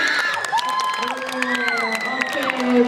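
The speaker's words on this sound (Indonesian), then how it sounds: "Oke, tepuk tangannya dong." Students at a high school student council candidate debate in Bekasi clap and cheer, with scattered shouts and whoops over a lively, fairly close crowd for about three seconds.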